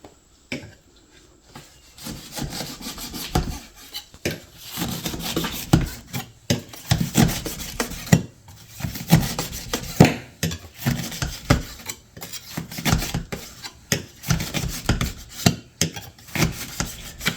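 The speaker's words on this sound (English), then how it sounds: "it really makes cutting up onions a whole lot easier" Onions being chopped in a homemade DIY vegetable chopper, a long run of rapid, uneven rasping and clattering strokes, close and fairly loud, with no talking.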